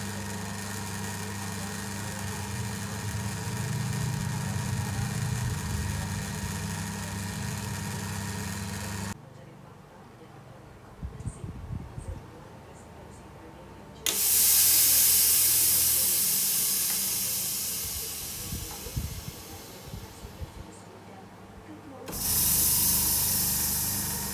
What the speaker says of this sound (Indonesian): Saya membutuhkan waktu 10 menit untuk proses laminating, vakum, dan bubble remover.